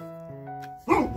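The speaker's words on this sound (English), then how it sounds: "My dogs were barking." Dogs barking indoors: a drawn-out tonal whine followed by a sharp louder bark at the end, close and brief.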